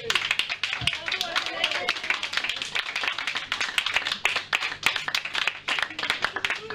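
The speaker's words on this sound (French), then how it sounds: "moi j'ai envie de vous applaudir" Applause at a New Year's greetings event with a raffle draw, individual hand claps audible as sharp, uneven slaps rather than a dense wash, close by, with a voice speaking over part of it.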